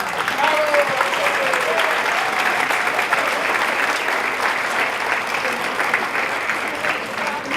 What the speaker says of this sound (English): I would like to all of us to give an applause for Lucia and her faculty.